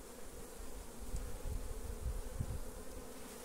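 Apis honey bees swarm around a hive captured from a cabiúna tree stump, making a dense, continuous buzzing hum at close range, steady and fairly faint with no voices.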